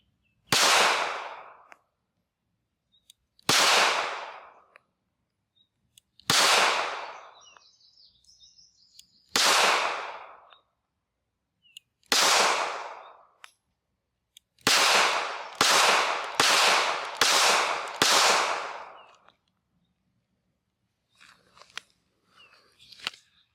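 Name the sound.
SCCY CPX-2 9mm pistol firing the first magazine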